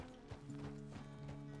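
Horse hooves clip-clop steadily at a walking pace in Red Dead Redemption 2, close and clear, with a soft whinny-like tone running underneath and no talk over it.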